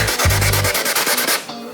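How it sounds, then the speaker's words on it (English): Rhythmic scraping strokes of sanding against filler on a wall, quick back-and-forth passes repeated several times at close range. "and then I'll sand it down"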